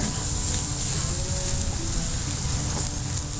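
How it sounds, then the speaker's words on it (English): Steady sizzling hiss of food cooking on a hot grill, continuous and fairly loud with no voices. "Oh, listen to that sizzle."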